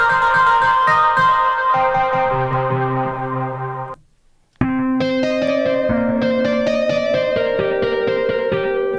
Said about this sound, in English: A bit of distortion.